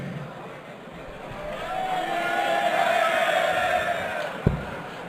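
A darts crowd at the PDC European Darts Open 2014 cheers Dave Chisnall's 180, a broad roar swelling over a couple of seconds and holding before a single sharp thump cuts through.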